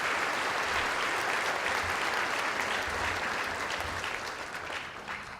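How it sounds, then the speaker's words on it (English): Steady, dense applause from a large audience at a 4-H leadership banquet, sustained throughout and easing slightly toward the end, with no talking over it. "Let's give them all a round of applause"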